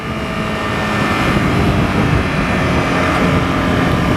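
A beginner motorcycle's small engine held at wide-open throttle gives a loud, steady, unbroken drone close by, with no talking.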